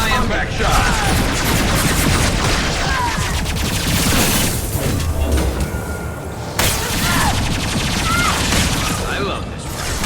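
Mass Effect 2 gunfire on Xbox Series X comes as dense rapid bursts and booms filling most of the stretch. There are brief lulls and mechanical clatter, loud and close, with voices over it.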